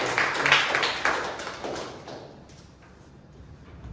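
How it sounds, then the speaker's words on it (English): A small group at a Toastmasters club meeting claps for a speaker, a brief round of applause that is loud at first and fades out within a couple of seconds. "let us give a round of applause to Keerthan."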